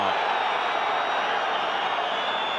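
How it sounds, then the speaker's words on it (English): The home crowd at Piacenza's football stadium during a 1993-94 Serie A match against Juventus fills the air with a broad, continuous roar of frustrated murmuring and jeers, distant and steady throughout. "The home crowd again showing their frustration."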